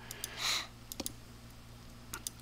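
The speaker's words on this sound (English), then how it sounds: "So I'm just left clicking with that crosshair." Soft, quick clicks of a computer mouse being left-clicked while working in LP360 classification software, a few isolated taps and short pairs scattered over a faint steady hum, with one brief hiss near the start.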